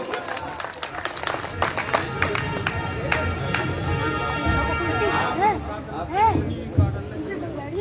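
Applause and cheering from a crowd at an open-air all-India kavi sammelan honouring martyrs, held in the grain market of Chhatarpur; dense, steady clapping fills the whole stretch with a murmur of voices and some tonal sound underneath.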